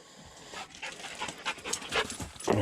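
A dog panting close by on a desert walk, quick rhythmic breaths repeating steadily for a few seconds and growing a little louder toward the end, with no talking.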